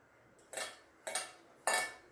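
Drumstick leaves being mixed by hand with turmeric, salt, chilli powder and ground coriander-cumin in a bowl, heard as three distinct scraping, clattering bursts about half a second apart, close and moderately loud with no talk.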